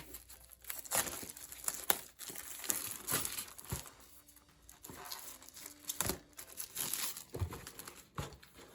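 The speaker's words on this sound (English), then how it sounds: "So let's get these open and out of their packaging." Plastic packaging being crinkled and torn open to get out Walthers concrete road plates for a model street system: close, irregular rustling and crackling with short bursts and pauses, no speech.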